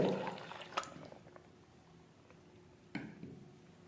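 Water poured into blended peach juice, a brief gush of liquid at the start and a splash near the end, fading to faint dripping between.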